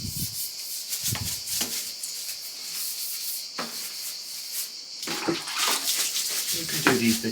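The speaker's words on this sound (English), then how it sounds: "And then we're just going to soak down the frame a little bit." Water splashing and running over a bicycle frame while it is soaked down during cleaning, a continuous close hiss with irregular splashes and rubbing, with some faint talk in the background.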